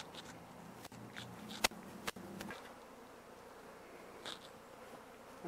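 Honeybees fanning at the edge of a hive box after a swarm is called down, a soft continuous buzz close by, broken by a few sharp clicks and knocks.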